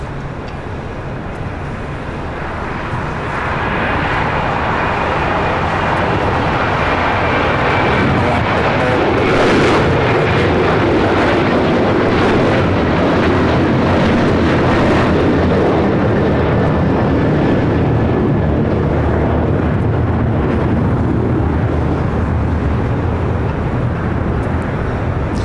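An ITA Airways airliner at LAX, arrived from Munich, makes a loud, sustained jet roar. The broadband rumble swells after the first few seconds and holds steady for the rest of the clip, with faint voices underneath.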